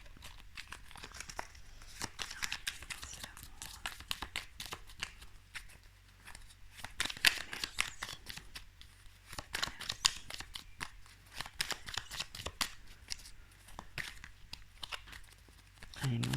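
Tarot cards being shuffled by hand, a steady papery riffling and sliding that runs throughout at moderate loudness, with intermittent sharper snaps, while someone speaks French now and then over it.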